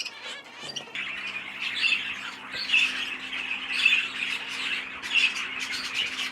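Finches and Fife canaries squawk and chirp in an aviary flight, repeated bright calls overlapping at moderate loudness over a faint steady hum.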